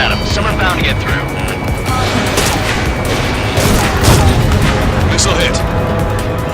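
Missile explosions and heavy gunfire rumble continuously in the aerial combat video game Ace Combat 7, dense booms layered under radio chatter and voices throughout.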